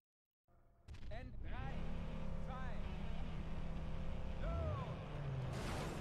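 A sports car engine in the racing game Crash n Burn, a sustained droning motor that rises and revs through gear shifts, fairly loud and continuous, with someone talking over it.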